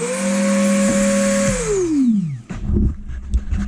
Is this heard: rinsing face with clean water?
no